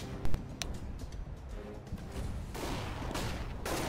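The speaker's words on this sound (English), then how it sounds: "Deploying flashbang." Gunfire and explosive bursts from a CS:GO round as a flashbang is thrown, with sharp loud cracks early on and a denser wash of blasts and chatter later, all within busy game noise.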